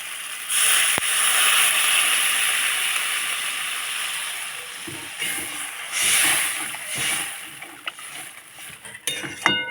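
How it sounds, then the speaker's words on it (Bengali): Water poured into a pan of cooking fish, a loud splashing hiss that rises and falls in bursts, followed by bubbling and clatter near the end. "এবারে দিয়ে দেবো জল"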